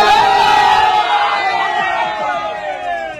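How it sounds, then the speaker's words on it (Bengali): A packed crowd of devotees chants and shouts together in unison aboard a crowded train, loud and close, the voices swelling and then fading slightly. "ট্রেনের মধ্যেই এই মুহূর্তে কিন্তু প্রচুর পরিমাণ ভিড় ভক্তদের।"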